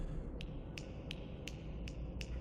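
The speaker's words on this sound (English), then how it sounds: "What's with the snapping?" Six crisp finger snaps at a steady pace in the video game King's Quest stand out over a constant low rumbling background, each one short and sharp.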